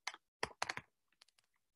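Keystrokes on a Mac computer keyboard, a few loud clustered clicks followed by fainter, scattered taps, close and alone with no talking.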